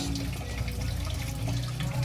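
Water runs from a tap into a pot of goat papaitan stew, a steady splashing pour mixed with low clatter, continuous for about two seconds.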